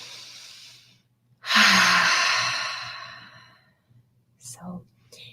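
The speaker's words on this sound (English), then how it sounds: "So we'll take a deep breath together." A deep breath drawn in and released: a long, loud, breathy exhale close to the microphone after a brief pause, followed by a softer short breath.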